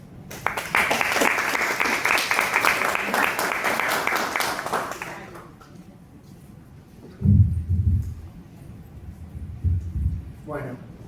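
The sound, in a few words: audience applauding speaker invited to stage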